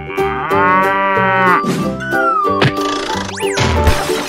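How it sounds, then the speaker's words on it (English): A cow moos several times in a row, loud and close, with long drawn-out lowing calls that rise and fall, over a cartoonish animal-themed background. "Cow."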